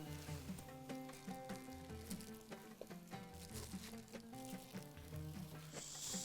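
Potatoes frying with onions in a pan, a faint continuous sizzle with soft crackles and patter, heard alone.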